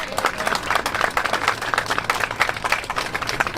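Audience in a public meeting on immigration at Abbeyville House, Fermoy, claps for a speaker: steady, close, fairly dense clapping that holds at an even level for a few seconds with no talk over it.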